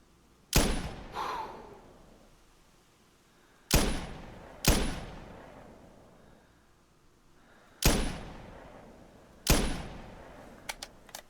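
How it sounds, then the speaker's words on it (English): Rifle shots fired at feral goats in theHunter 2017, five loud cracks at irregular intervals, each followed by a rolling echo, then a couple of faint clicks. "So we're looking at about 150 meter shot."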